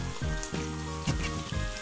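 A whole stuffed chicken, Murg Musallam, fries in a large pan over medium heat, giving a continuous crackling sizzle with a few louder bursts of spitting oil.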